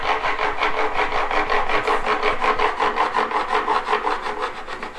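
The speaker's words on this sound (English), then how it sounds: "doing some fret filing" Guitar frets being filed in a guitar-making workshop, a close, steady rhythmic rasping of quick back-and-forth strokes running continuously with no talk.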